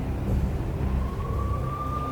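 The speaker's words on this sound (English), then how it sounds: "I could hear the sirens. Their wail was a crescendo." A police siren from the Max Payne game wails steadily, its tone slowly rising, over a dense low rumble of city noise, with no talk.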